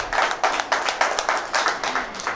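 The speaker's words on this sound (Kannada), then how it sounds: "ಅವರಿಗೆ ಒಂದು ಜೋರಾದ ಚಪ್ಪಾಳೆ ಮತ್ತೊಮ್ಮೆ" An audience claps for a children's dance at a preschool and day-care summer camp event. The claps come close and loud in an even, brisk rhythm and hold steady throughout.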